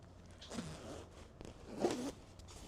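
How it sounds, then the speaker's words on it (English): A jacket zipper from a storage unit find being tested, two quick pulls with short rasping zips, close and alone. "Zipper check."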